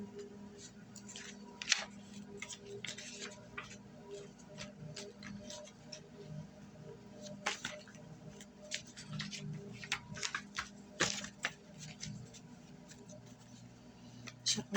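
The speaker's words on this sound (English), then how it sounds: "Shuffling for Leo." Tarot cards are shuffled by hand close up, giving quiet, irregular riffling, tapping and snapping bursts spread across the stretch with no talk.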